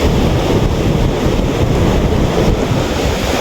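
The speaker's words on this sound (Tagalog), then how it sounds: "Malakas yung tubig dyan oh, ano?" Loud, steady rushing water roars close by, a dense broadband wash with wind buffeting the microphone and no voices.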